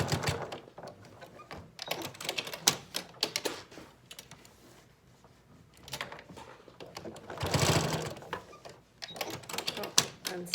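A sewing machine stitches bias tape in short bursts of rapid, close clicking. Quiet gaps of handling separate the bursts.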